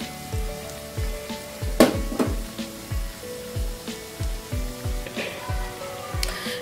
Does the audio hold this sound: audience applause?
no